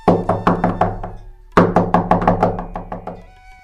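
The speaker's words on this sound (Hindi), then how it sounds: "किसी ने दरवाजा खटखटाया।" Someone knocks on a house door in two quick bursts of sharp, evenly spaced raps, each run fading slightly, loud and close with no voices.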